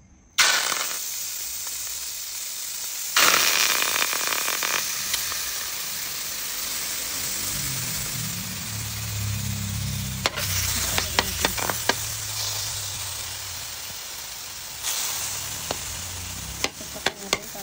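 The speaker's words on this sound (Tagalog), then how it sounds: "Nilagyan ko na siya ng suka at toyo. Lagyan natin sa mainit na kawali." Chicken marinated in vinegar and soy sauce sizzles and hisses steadily in a hot oiled pan, a loud continuous fry with brief stirring scrapes and clatters near the end.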